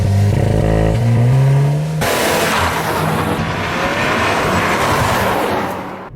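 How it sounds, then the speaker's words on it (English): A 2022 Cupra Leon sets off under launch control, its engine held at a high rev before it surges away in a loud, rising roar of full-throttle acceleration that fades at the end. "it grips incredibly well. It does slip a little bit if it's damp and it's under full throttle, such as the amazing launch control"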